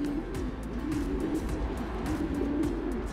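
Yearling pigeons coo in low, soft, rolling calls that repeat steadily and close by, with no talking.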